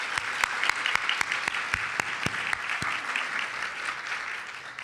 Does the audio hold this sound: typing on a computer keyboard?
no